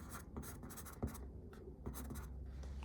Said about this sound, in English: So let's take a writing sample.